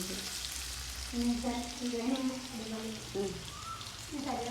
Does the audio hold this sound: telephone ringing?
no